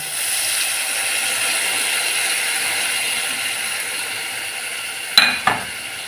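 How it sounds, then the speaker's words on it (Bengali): Water-soaked spice paste goes into a hot frying pan for a hilsa fish and taro curry. A steady close sizzle runs throughout, broken near the end by two quick metallic clanks of a utensil. "এবার এই মশলাটা এর মধ্যে দিয়ে দেবো।"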